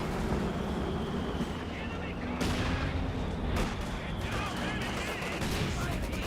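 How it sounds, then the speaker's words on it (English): A Maxim machine gun fires in the Company of Heroes 2 video game amid a dense, continuous battle din of bursts and booms, loud and cluttered, with someone talking over it. "got the Maxim firing away, hitting the Pioneer squad"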